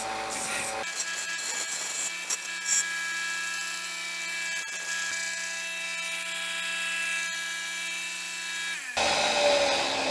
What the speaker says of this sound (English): So let's do some sanding.